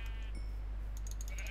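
A sheep in the modded Minecraft Tekkit game gives a short bleat over a steady low hum, followed by a few faint game sounds.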